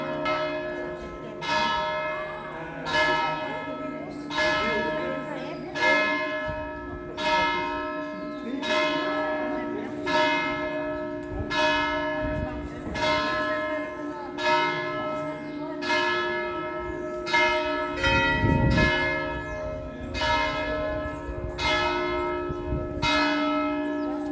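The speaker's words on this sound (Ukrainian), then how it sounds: "Ми виходимо з храму і якраз б'ють дзвони." Large church bells toll in a steady rhythm outside a church in Tossa de Mar, each strike ringing out and overlapping the last, loud and resonant, with faint talk beneath.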